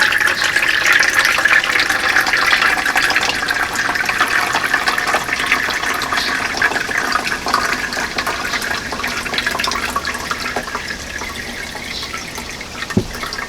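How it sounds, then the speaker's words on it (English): Water poured through organic bromeliad potting mix rushes and trickles steadily at close range for over ten seconds, a continuous loud wash of liquid with faint drips and no talking. "the water has poured through"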